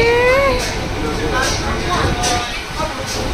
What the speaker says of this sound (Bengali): ব্যান্ডেল থেকে ট্রেন এখন ছেড়ে দিল ঝিকঝিক ঝিকঝিক করে।